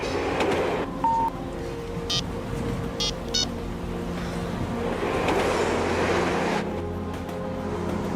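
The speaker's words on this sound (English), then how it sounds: "I'm on a train." Interior of a moving train: a steady low rumble and rolling rail noise fill the whole stretch, with a few brief higher clicks and squeals over it and no talking.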